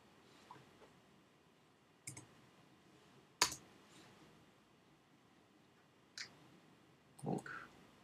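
A computer mouse clicks a few times at irregular intervals, sharp isolated taps over a quiet room hiss with no one speaking.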